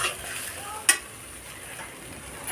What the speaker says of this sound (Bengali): মশলা দিয়ে ভালোভাবে কচু শাকটা যাতে মশলাটা ঢোকে কচু শাকের মধ্যে, এই জন্য আমি একবার ভালোভাবে নেড়ে নেব।